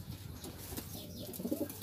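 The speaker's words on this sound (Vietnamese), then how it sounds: "Mấy con đó là bồ câu gà." Large pigeons of a heavy breed, weighing around 700 to 800 grams, give low, soft cooing calls close by, a brief murmuring burst of repeated coos.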